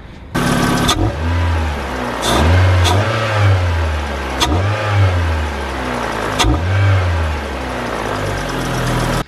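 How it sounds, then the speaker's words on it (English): With a new pod air filter fitted, a car engine idles and is blipped repeatedly. The loud, close revs swell and fade in a steady rhythm, with no voices over the engine. "this is how it sounds with the new air filter fitted"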